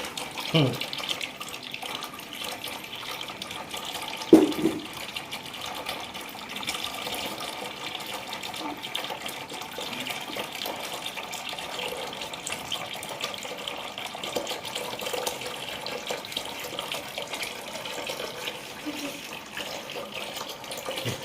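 Water from a pipe filling a small homemade fountain, a steady running, splashing wash of water lasting throughout, with voices talking faintly over it.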